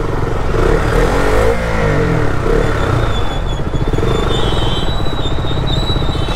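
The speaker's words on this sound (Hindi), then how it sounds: "Stock exhaust is roaring." Stock exhaust of an engine roaring steadily as it revs, a loud, close, continuous low rumble with shifting pitch, heard alone without talk.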